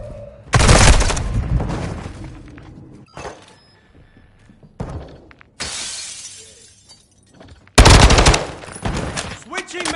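Call of Duty Modern Warfare II gunfire crashes out in several loud, sharp bursts separated by quieter gaps, with shattering impacts and rapid automatic fire, close and harsh.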